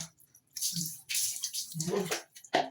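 Water splashes and pours in uneven bursts while pets are bathed outdoors, with short gaps between the pours.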